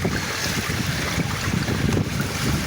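Steady breezy wind buffeting the microphone outdoors by a river on a wet day, a continuous loud rushing roar with no talking.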